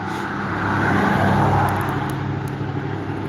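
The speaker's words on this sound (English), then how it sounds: "A lot more traffic than normal, too." Steady road traffic rolls past outdoors on a warm day, a continuous broadband rush that swells slightly as a vehicle goes by at moderate distance, with no talking.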